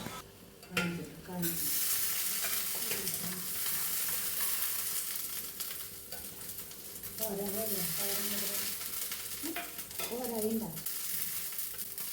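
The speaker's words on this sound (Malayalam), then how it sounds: "ഇനി മുതിര വറക്കാം" Horse gram dry-roasting in a pan gives a continuous rustling, scraping hiss as it is stirred, while a voice talks intermittently over it.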